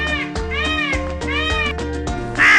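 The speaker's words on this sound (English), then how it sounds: "Peacock," A peacock calls several times in a row, each loud, wailing, cat-like cry rising and falling, close by with no one talking.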